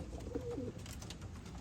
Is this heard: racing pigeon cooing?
yes